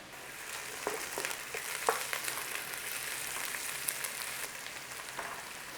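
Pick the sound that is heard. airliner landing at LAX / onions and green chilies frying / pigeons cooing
onions and green chilies frying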